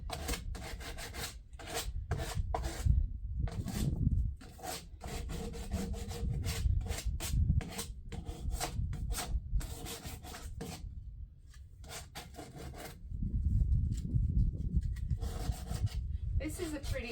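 Heavy-grit sandpaper is worked by hand over a wooden table in steady back-and-forth rasping strokes. The scraping is continuous and close, its rhythm varying slightly as the strokes speed up and slow down.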